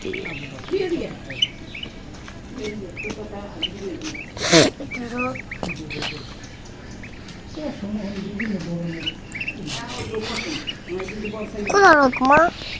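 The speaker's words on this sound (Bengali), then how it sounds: "চিরাহাঁস দুই রকমের হাঁস একটা চিরাহাঁস আর একটা হলো ই হাঁস দেশি হাঁস" Muscovy and native ducklings quack in scattered, uneven bursts close by, with a couple of louder calls standing out, while people talk over and between them.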